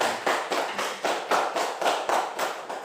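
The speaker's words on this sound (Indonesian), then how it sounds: "Iya, oke, tepuk tangan." A classroom of students claps together in a steady rhythmic beat of about a dozen evenly spaced, fairly loud claps.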